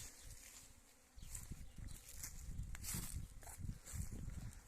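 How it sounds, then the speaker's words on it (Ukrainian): Honeybees fly around an outdoor apiary in spring, a dense close buzzing that swells and fades as insects pass near, over a low rumble of wind or handling noise. "Бджілки вже бджілки собі літають."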